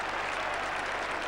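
A large cricket crowd at Edgbaston applauds England's Test win over Australia on the fourth day of the 1981 Test, a dense, steady roar of clapping filling the whole moment.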